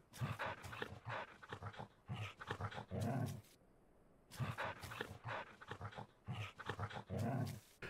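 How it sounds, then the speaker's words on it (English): Torgal, a companion wolf creature in the video game Final Fantasy XIV, grumbles low and whimpers in short repeated bursts, looping with brief pauses between, faint and close. "Seems to have different sounds, like a grumble and sometimes a whimper."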